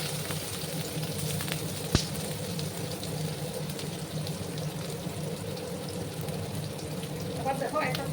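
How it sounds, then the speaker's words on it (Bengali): Chopped onion hits hot oil and sizzles in a steady, even hiss throughout, with a single sharp clink near the start and a few light crackles toward the end. "দেখো একটা গরম হয়ে গেছে আমি কিছুটা পেঁয়াজ কুচি দিয়ে দিলাম"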